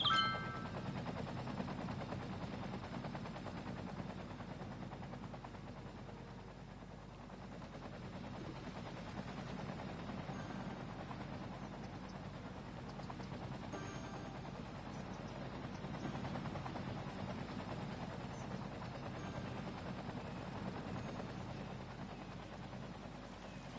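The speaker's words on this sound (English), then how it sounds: "Just gonna watch the helicopters now." Helicopters in the city-building game Cities Skylines fly over a burning town, a steady rotor drone with faint pops mixed in, unbroken and moderately distant, with no talk.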